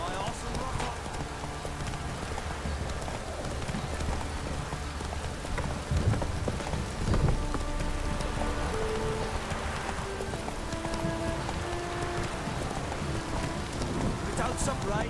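Steady rain hiss pours down in The Witcher 3: Wild Hunt, a dense broadband wash under a game music drone, with a few soft thumps and occasional speech-like voices around it.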